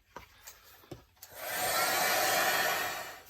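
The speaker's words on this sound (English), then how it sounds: "I'm going to try and dry that off using the heat gun" A heat gun drying paint on a gel plate switches on after a few soft taps and clicks, then blows a steady, loud, broadband whoosh that continues to the end.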